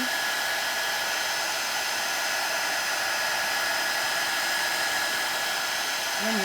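A heat tool blowing steadily to melt embossing powder on a stamped image, a loud continuous airy roar like a hair dryer that holds at an even level throughout.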